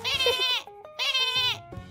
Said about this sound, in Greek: Κατσίκα!